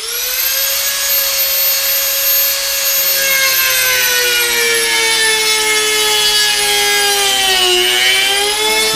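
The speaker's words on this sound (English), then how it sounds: "I'm gonna take the old Dremel. Right now we're gonna go ahead, we're gonna hack this on off" A Dremel rotary tool whines loudly at close range while cutting through part of a DIY camera dolly build, its high pitch sagging and recovering as it bites into the material.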